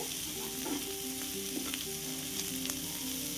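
Boiled sweet corn kernels roast in butter in a pan, giving a soft, continuous sizzle with light stirring scrapes, near and quiet, with a faint steady hum underneath.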